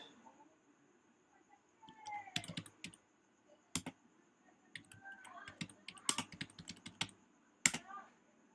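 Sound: typing Bangla phonetically on a computer keyboard in Photoshop

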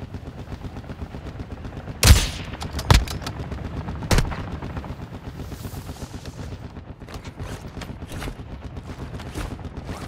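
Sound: sniper rifle gunfire in video game DMZ

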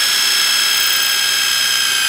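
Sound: power drill boring a hole through a wooden trellis wand

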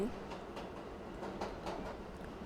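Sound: train in a video game

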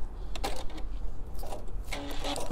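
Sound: sewing machine sewing a lock stitch

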